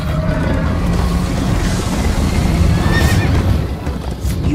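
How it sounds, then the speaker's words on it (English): In Minecraft: Story Mode, a horse whinnies while hooves clip-clop at a steady gallop, set against a dense, continuous rumble of background noise. "First time on a horse here!"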